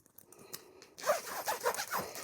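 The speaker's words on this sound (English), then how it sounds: "I think these zippers are going to last a long time." Zipper being pulled on compression packing cubes, a quick rasping zip lasting about a second after a few faint handling sounds, close and clear with no talk.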